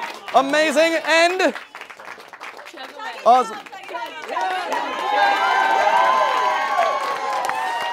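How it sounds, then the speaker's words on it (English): Audience at a magic show in the Parlour of Prestidigitation at the Magic Castle bursts into steady applause and cheering that builds and holds loud through the second half, after a stretch of someone speaking over the room. "Give them a big round of applause."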